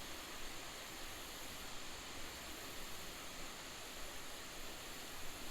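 Small creek waterfall giving a steady, broadband rushing roar of falling water, constant and fairly close with no voices.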